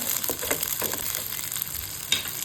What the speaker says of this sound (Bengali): এখন আমি সেম তেলের মধ্যে ভেন্ডিগুলো দিয়ে দেব।